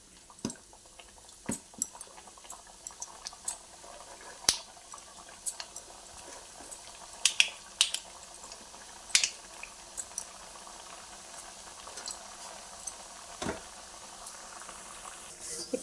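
Wheat flour biscuits deep-frying in hot oil, giving a steady bubbling hiss broken by scattered sharp pops and crackles, close up and fairly quiet.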